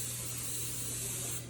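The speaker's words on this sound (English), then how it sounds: "So you're going to spray your pan." Cooking spray hisses onto a standard 9x13 baking pan in one continuous close burst lasting over a second, over a faint low hum.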